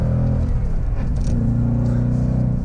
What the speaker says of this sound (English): I have the exhaust on track right now, so that way we can really hear it